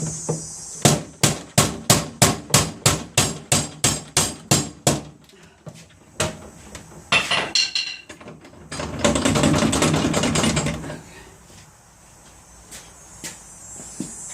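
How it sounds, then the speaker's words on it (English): A hammer bangs screws out of a Street Fighter 3: Third Strike arcade cabinet during a restoration: a rapid run of about a dozen sharp, loud strikes, then a pause, scattered knocks and a longer scraping, rattling stretch. "I'm gonna just hammer it out."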